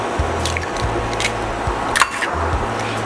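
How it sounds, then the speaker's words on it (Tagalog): Two eggs go into a generous layer of hot oil for a Filipino eggplant omelet, with a few short wet plops and crackling sizzle bursts over a low background hum. "Ayan, maglalagay tayo ng 2 egg."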